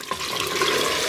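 Soaked semolina being poured into hot sugar syrup for makhadi halwa, a close, steady watery splashing and sloshing that starts with a brief knock and carries on without talk.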